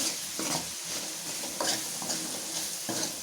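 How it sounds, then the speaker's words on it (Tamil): Onions sautéing in a pan for a Tamil mutton tripe curry, a steady sizzle with repeated scraping stirs of a spoon against the pan at close range. "இப்போ அந்த வெங்காயம் நல்லா வதங்கிட்டு இருக்கு."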